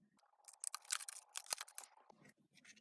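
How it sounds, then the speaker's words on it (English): Fancy edge scissors trim a piece of pink card close up, giving a quick run of crisp snipping and rustling cuts in a quiet room. "we're going to trim this edge with the fancy edge scissors"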